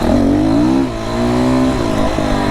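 An FSE300R engine revs hard as the throttle is twisted, a loud, close, rising-then-dropping mechanical whine with a brief dip before climbing again, heard alone.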